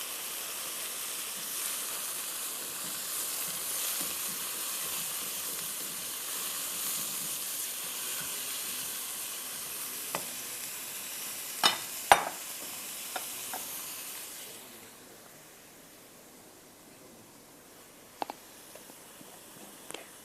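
Half a kilo of hand-pounded minced meat with ginger garlic paste sizzles steadily in a hot pan, with occasional utensil clicks; the frying hiss drops away partway through, leaving quieter crackles.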